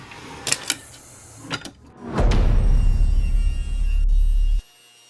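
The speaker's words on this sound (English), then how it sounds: "We're going to rip some 1x down to 2 1/4." A table saw rips a 1x wood board lengthwise to 2 1/4 inches, starting after a few light knocks and running as a loud, steady roar for about two and a half seconds before cutting off abruptly.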